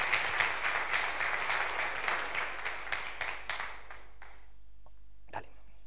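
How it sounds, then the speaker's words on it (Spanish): An audience at a science fair closing ceremony gives sustained applause, dense and loud at first, then thinning into scattered claps that fade over several seconds until only a few isolated claps remain. "un fuerte aplauso para él"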